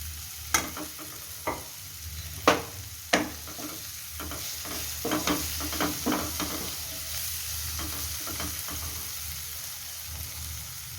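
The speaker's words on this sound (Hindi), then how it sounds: "टमाटर गलने तक पकाऊंगी।" Tomatoes cook in a pan with a soft, steady sizzle, punctuated by several sharp spoon knocks and scraping stirs early on, then a cluster of quicker stirring taps before the frying settles.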